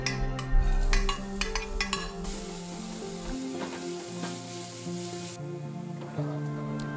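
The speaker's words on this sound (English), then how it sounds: "After it's cooked a little, I will remove it and add in the chopped leek." Chopped leek stir-frying in a pan for Korean, Japanese or Chinese cooking, a steady close sizzle with clinks and scrapes of a utensil against the pan, no voices.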